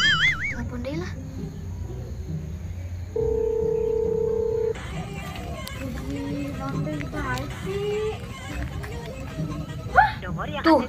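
A phone call is placed: a steady electronic dial tone holds for a second or two, followed by short dialing beeps, while people chatter and talk loudly around the handset before and after.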